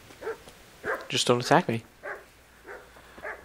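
Dog barking in the medieval video game Kingdom Come Deliverance, several sharp barks spaced across the moment with someone speaking briefly over them in the middle.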